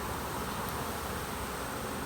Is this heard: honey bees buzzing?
yes